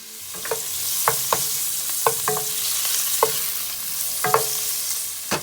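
A Spanish stir fry simmers and sizzles loudly in a pan, a steady hiss broken by sharp scrapes and clinks from the stirring utensil at irregular intervals, heard up close with no voices.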